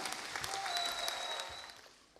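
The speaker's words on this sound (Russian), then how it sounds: "Аплодисменты новым артистам Чебоксарской государственной филармонии." A concert audience at a Chuvash music festival applauds new artists of the Cheboksary State Philharmonic: a brief burst of dense, distant clapping that tapers away after two seconds.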